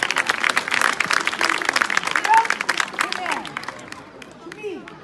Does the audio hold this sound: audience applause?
yes